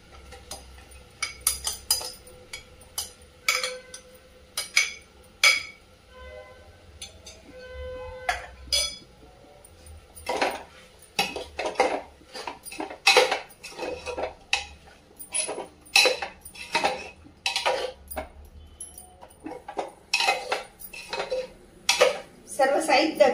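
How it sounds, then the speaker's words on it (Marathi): Soybean biryani ingredients being stirred and sautéed in a pan, loud irregular clanks and scrapes of a spoon on metal in uneven bursts, close by, with faint talk in places. "आणि आता आपण हे सगळं साहित्य छान असं परतून घेऊया।"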